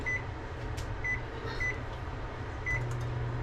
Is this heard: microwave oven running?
yes